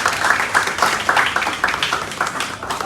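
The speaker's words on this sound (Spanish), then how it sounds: "Un aplauso nuevamente para los compañeros" Audience applause for classmates at a live school event, a quick run of overlapping hand claps rising and falling in bursts, moderately loud and fairly close, with no speech over it.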